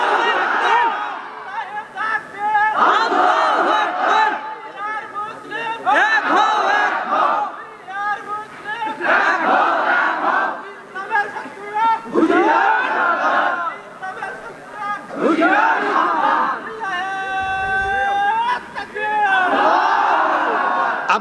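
A large crowd at a political rally in Bangladesh shouts slogans in loud call-and-response bursts, with one voice leading and many voices roaring back in rhythmic waves.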